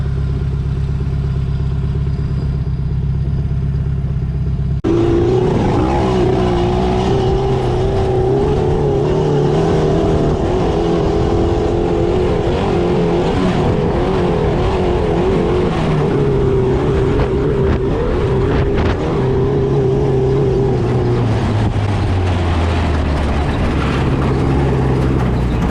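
A sand rail's engine with a failing turbo idles low, then roars into sustained loud revving that rises and falls in pitch, harsh and close, with no talking over it.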